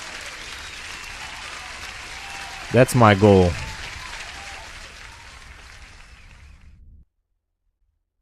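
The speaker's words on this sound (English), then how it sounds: "Sorry for the too much applause" A burst of applause sound effect during a live futures day-trading stream, steady crowd clapping running through most of the clip, briefly cut by a loud tonal chime and a voice, then stopping abruptly.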